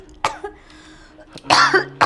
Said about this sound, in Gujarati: બહુ ખાંસી છે